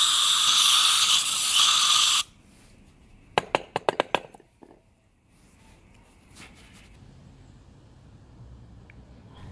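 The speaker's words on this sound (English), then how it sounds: "Spray enough to get the carbon deposits out." A loud, steady aerosol cleaner hiss sprays for about two seconds into a carbon-fouled Honda car EGR valve and cuts off, followed by a quick burst of small clicking and rattling noises.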